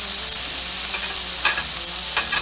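A New York strip steak sears in a hot pan after being flipped, giving off a loud, continuous hiss of fat and a few brief crackling pops, heard close up with no talking.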